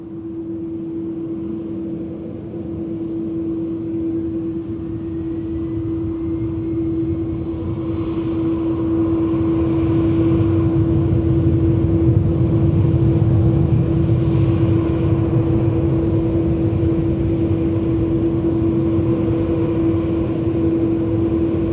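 An airliner takes off from a runway, its jet engines building from a steady distant hum to a louder broadband roar that holds as the plane accelerates away, with no voices.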